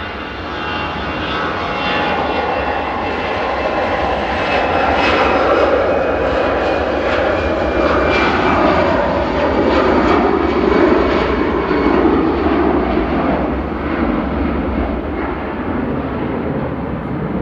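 An easyJet airliner departs Manchester Airport for Amsterdam, a loud, close jet engine roar that builds to a peak midway and then holds as it tapers slightly, with no voices over it.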